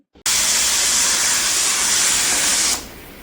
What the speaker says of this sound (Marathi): रोज माझ्याकडनं डाळ लावली की कुकर हा असा उतू जातो